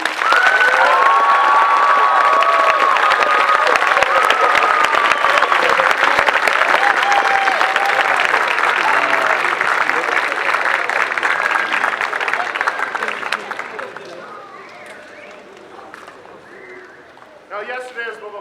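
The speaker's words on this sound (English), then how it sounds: "Give them a big round of applause, please." Loud, sustained audience applause fills a school assembly hall for about thirteen seconds, with some cheering, before fading to scattered clapping and a brief final burst.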